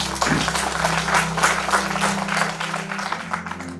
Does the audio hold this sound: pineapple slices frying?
no